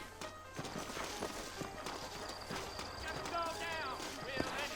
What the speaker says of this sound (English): Now, Sissy, you ain't gonna find sturdier horses than these in all of New Ulster